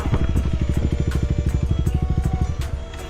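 A motorcycle engine idling near by in a bike lineup, a steady rapid thumping pulse held throughout with a few faint clicks over it.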